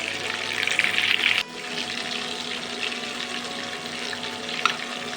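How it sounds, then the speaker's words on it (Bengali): Pakoras fry in hot oil: a steady, close, hissing sizzle that continues throughout, dips briefly early on and then carries on at an even level without talk. "বাকি পকোড়াগুলোও কিন্তু আমি এভাবেই ভেজে নেব।"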